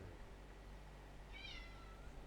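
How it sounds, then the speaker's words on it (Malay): A neighbour's cat meowing once, a short high call that rises and falls, heard faintly over a steady low background hum in a quiet room. "Ini kucing cikgu lah, kucing jiran mari."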